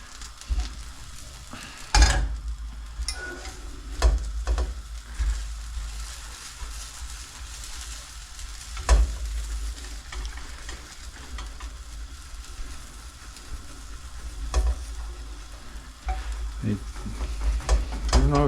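Beans for a bean torta frying and browning in a pan, a steady low sizzle with scattered sharp scrapes and stirring knocks of a spatula throughout.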